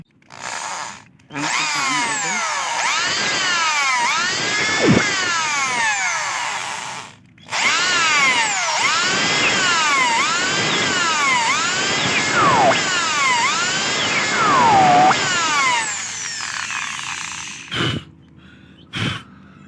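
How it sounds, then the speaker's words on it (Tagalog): A power drill bores a hole in a dry mahogany table leg, a loud whining motor rising and falling in pitch over several long runs with brief pauses between, close to the microphone. "So drill, ibubutas natin yan dyan."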